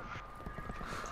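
A horse gallops in Call of Duty: Black Ops 4 Blackout, its rapid rhythmic hoofbeats clopping at close range over a low game rumble.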